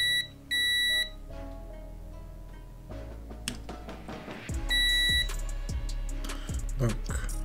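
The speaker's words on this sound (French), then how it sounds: "C'est normal que ça bip" An electronic tester beeps in short bursts while checking TV LED backlight strips, a couple of sustained high tones amid clicks and handling noises, fairly faint and close.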